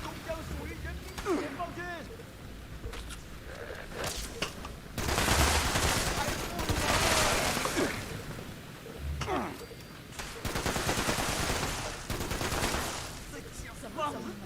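Gunfire in the video game Fallout 76, with scattered shots giving way to two long, dense, loud bursts of rapid fire and a few sharp reports in between, over a constant noisy game background.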